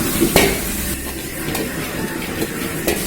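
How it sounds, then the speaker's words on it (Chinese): Eggplant and long beans stir-fried in a wok, a steady oily sizzle with scraping stirs and a few sharp spatula knocks against the metal. "下入茄子豆角，先炒香"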